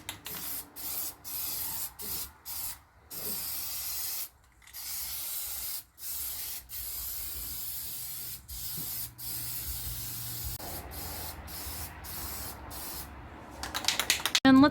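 A spray can lays down light dry coats of flat black paint on Ford F-150 trim, sounding as a series of close hissing bursts of varied length broken by short gaps, with a rattling shake near the end.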